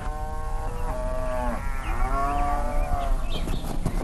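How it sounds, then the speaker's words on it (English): Cows low in long, drawn-out moos in Vrindavan, loud and close over a constant outdoor background, with several overlapping calls. "Each day, the cows wander to one of Vrindavan's 12 forests."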